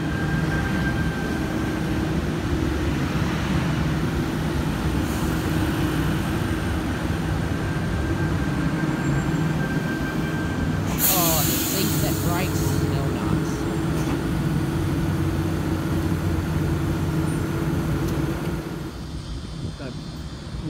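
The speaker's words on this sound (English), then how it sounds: "Waratah Series 2 approaching platform number 2 for a terminating service." A Sydney Trains Waratah Series 2 electric train pulls into platform 2 at Revesby station on a terminating service, a loud sustained rumble and whine that holds steady, with a brief hiss and squeal near the middle before easing off at the end.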